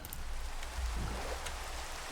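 Steady soft rain in Minecraft, an even hiss of falling drops that stays faint and continuous throughout, with no voices over it.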